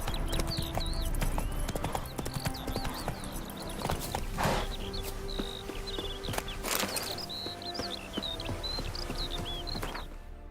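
Roach, the horse in The Witcher 3 video game, running: rhythmic hoof clip-clops throughout with a couple of sharp louder hits, high chirping bird calls over the top, and faint murmuring in the background.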